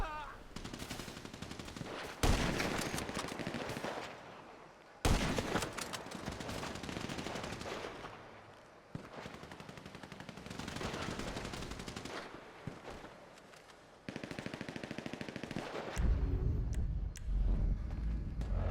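Shots and sustained bursts of gunfire fill a GTA 5 firefight. Long stretches of dense fire stop abruptly and start again, loud and close, with no voices over them.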